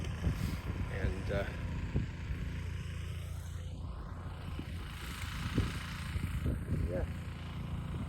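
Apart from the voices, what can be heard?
tractor cross-tilling a field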